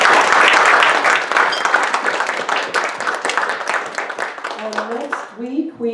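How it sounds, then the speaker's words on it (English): An audience at a cruising club talk about the Amalfi Coast applauds a returning guest speaker: loud, full clapping at first that thins into scattered claps, then a voice speaks as it dies away. "Let's give him a nice big round of applause"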